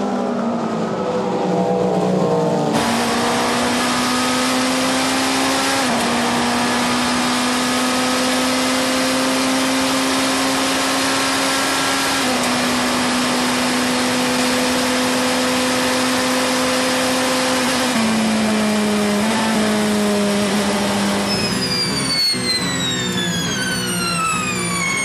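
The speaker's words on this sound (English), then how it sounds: "but here come the Ferraris." Ferrari race cars at the 24 Hours of Le Mans scream past in a loud, sustained engine howl whose pitch steps through gear shifts, then drops sharply as they go by near the end.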